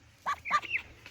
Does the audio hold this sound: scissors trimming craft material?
no